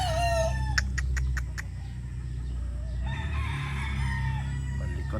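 Boston Roundhead gamefowl rooster crowing, a fairly faint single crow over steady background hum, with a few clicking sounds and soft clucks following.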